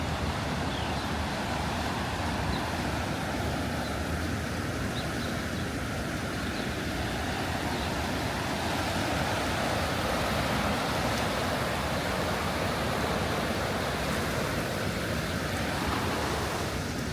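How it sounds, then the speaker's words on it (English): Merrimack River water rushing steadily beside a red brick mill area in Lowell, Massachusetts, a continuous broadband roar with wind buffeting, loud and unbroken throughout. "right next to me is the Merrimack River"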